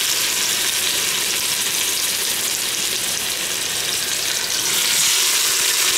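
Oxtail sears in olive oil and butter inside an Instant Pot, giving off a loud, steady, close sizzle that runs unbroken throughout.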